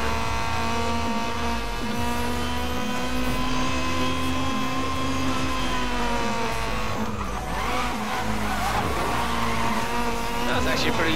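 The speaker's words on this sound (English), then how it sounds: "That was actually a pretty good slide there." A race car power slides in a racing video game, its engine droning at a steady pitch while tires skid and squeal, the squeal growing harsher and more broken toward the end, loud and continuous throughout.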